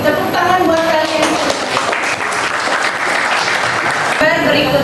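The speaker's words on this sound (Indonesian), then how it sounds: "Tepuk tangan buat kalian." Classroom applause for students, steady clapping from a group of children mixed with voices talking throughout, fairly loud and close.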